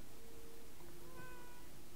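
A cat meows a few times, faint and brief, against a quiet background in the horror video game Layers of Fear DLC.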